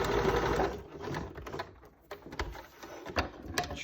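A sewing machine stitches a fabric face-mask seam with pleats, running in short bursts that stop and restart as it goes back over a few stitches, with mechanical clicks in between.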